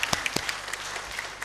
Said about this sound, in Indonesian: tuh tepuk tangan dong yang paling terjauh itu.